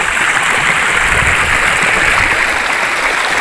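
Small creek or river flowing in the wild, a loud, dense, continuous rushing and babbling of water, close by and steady throughout, with no voices.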